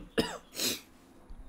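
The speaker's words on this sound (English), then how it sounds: "Let me cough real quick." Two quick coughs close by, the first sharp and short, the second rougher and longer, then quiet.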